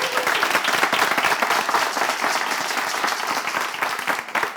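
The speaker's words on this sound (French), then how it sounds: "Vous avez applaudi pour 1 million" An audience applauding loudly at a French-language televised quiz show from Togo, dense continuous clapping that fills the whole stretch without pause.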